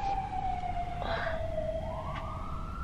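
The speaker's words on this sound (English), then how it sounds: "We're at the hospital, so you might hear sirens." An emergency vehicle siren wails steadily in the distance near a hospital, its pitch sliding down and then rising again over a low rumbling background.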